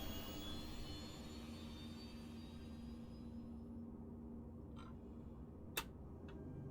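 A Vandal aerospace ship in Star Citizen powers up with a steady, broad engine roar and a whining tone that fades after a few seconds. A couple of short clicks follow, with one sharper tick near the end.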